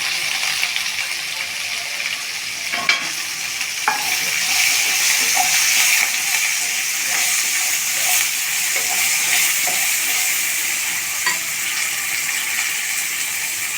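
Long-sliced onions go into hot oil with garlic for a puri curry, and they set off a strong, even sizzle with scattered pops and clinks of stirring throughout.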